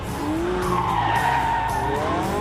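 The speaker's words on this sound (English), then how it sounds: "It's spinning its wheels in sixth!" A McLaren sports car spins its wheels in sixth gear with tires squealing, a loud sustained screech riding over a roaring engine at close range.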